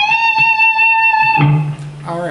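A single high, sustained electric guitar note rings out, then drops into a lower note with a few quick pitch changes. The short phrase comes from the next section of a song.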